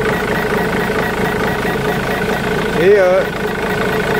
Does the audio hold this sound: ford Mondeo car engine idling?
yes